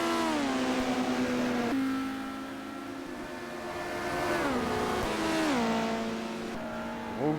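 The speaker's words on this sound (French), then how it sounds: "Walter Orl qui est en train de doubler Eduardo Loaiza." Audi touring race car at Monza in a 1990 WTCC race, engine loud and close, pitch rising through gear changes with several shifts as it overtakes another car.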